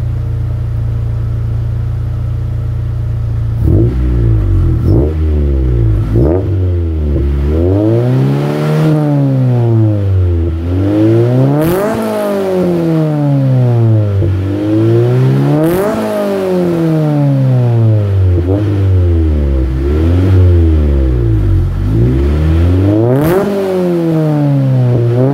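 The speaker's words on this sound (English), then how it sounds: "I'm going to show you what my warm B20b high comp sounds like on the CRX." Honda CRX with a warm high-compression B20b engine and full exhaust, starting from idle and then revved repeatedly in loud rising and falling sweeps, close and continuous with no talking.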